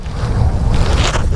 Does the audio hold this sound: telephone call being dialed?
no